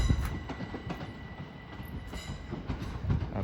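Class 375 electric multiple unit 375705 moving through Hastings station, a steady low rumble with rhythmic wheel clicks and faint rail hum, fairly close and unbroken.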